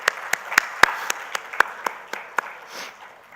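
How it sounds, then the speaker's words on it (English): Scattered clapping at a book release ceremony, a handful of distinct, separate claps at an uneven pace in a quiet room rather than full applause. "I would really appreciate if you all could give him a big round of applause"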